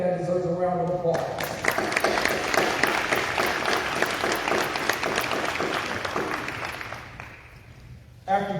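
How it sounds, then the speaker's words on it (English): Audience at a city mayor's town hall applauds in a dense, sustained burst of clapping that fills most of the stretch, then fades out near the end. "I think that deserves a round of applause."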